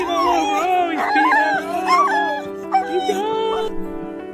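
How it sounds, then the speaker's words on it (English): A dog moans and whimpers with joy at reuniting with its owner after years apart, giving a string of high, wavering whines and yelps that rise and fall continuously, close and fairly loud. "In joyous anticipation, Nosh can't help but moan and whimper."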